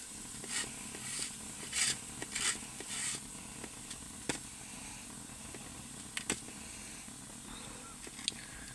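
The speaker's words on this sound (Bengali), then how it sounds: "চিড়েগুলো কি সুন্দর ভাজা হচ্ছে" Flattened rice (chira) fries in hot oil in a home kitchen pan, giving a faint, soft sizzle broken by scattered sharp crackles and stirring clicks.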